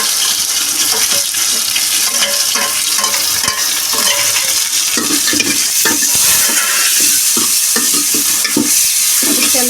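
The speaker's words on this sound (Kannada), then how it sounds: "ಚಲೋತ್ನಾಗ ಇದ್ರಾಗ ಫ್ರೈ ಆಗ್ಬೇಕು ರೀ ತುಪ್ಪದಾಗ." Food frying in ghee in a pan for a festive home-cooked dish, with a loud, close, constant sizzle broken by frequent stirring scrapes and clinks of a utensil against the pan.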